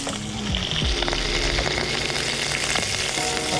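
Garlic and chili sizzle and crackle steadily in hot oil, a close, continuous frying hiss with occasional stirring clatter.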